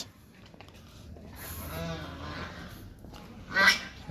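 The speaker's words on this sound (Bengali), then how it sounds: "প্যাক প্যাক শুরু করছে রাজহাঁস" Geese honk and cackle at a picnic spot beside a pond, a burst of calls in the middle and a louder, sharper cry near the end over faint outdoor background.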